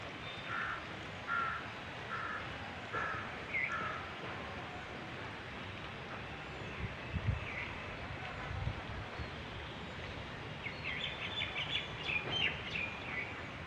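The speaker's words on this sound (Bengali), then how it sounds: "কি সুন্দরভাবে পাখি ডাকছে" Birds call across an open field after the rice harvest: scattered crow-like caws and short chirps at a moderate distance, spread over a quiet, breezy background.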